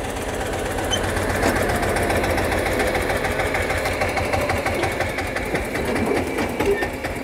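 An Eicher 242 tractor engine idles steadily after a hand-crank start, a loud, close, continuous mechanical chug with a rapid rhythmic knock throughout.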